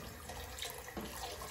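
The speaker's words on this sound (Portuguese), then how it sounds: "Acrescentar aqui a água" Water pours into a pot for Portuguese seafood rice already seasoned with saffron, a continuous close splashing and running flow heard alone.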